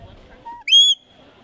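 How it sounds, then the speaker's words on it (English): A sharp, shrill sheepdog handler's whistle made with a whistle device: a short lower note, a brief gap, then a louder rising note held briefly, alone in quiet. "you're actually using a device to make those whistles"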